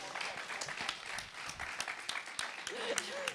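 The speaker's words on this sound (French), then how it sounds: "On peut l'applaudir." A small quiz audience claps after a correct answer, giving a brief, fairly quiet patter of applause mixed with some murmuring voices.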